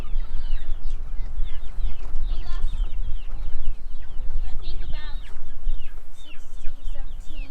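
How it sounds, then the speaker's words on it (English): Young egg-laying chicks cluck and chirp busily in a coop, a dense flock of overlapping calls close by, with low rumbling movement and occasional voices underneath. "So our chicks, our new chicks are in this, the egg layers."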